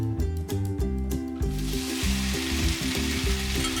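Chicken frying in oil in a wok for Kung Pao chicken, a steady loud sizzle with rhythmic stirring or tossing strokes throughout, no talk over it.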